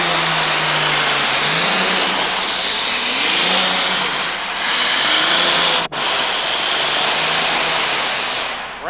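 Twin engines of a modified pulling tractor roar at full throttle during a 1989 New Jersey tractor pull, a loud, sustained, rising drone with a brief dip before surging again, heard without talk.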